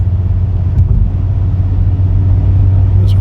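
A 2015 Maserati Ghibli S Q4 with an all-wheel-drive 3.0-liter twin-turbo V6 pulls away under acceleration, its steady low engine drone and road rumble heard from inside the cabin, with no talking over it.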